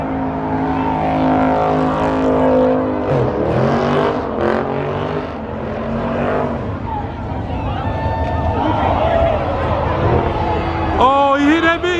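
A car spinning donuts, its engine revving loudly and steadily with rising and falling tire and motor noise throughout, more high-pitched screeching near the end, while people talk and shout excitedly over it.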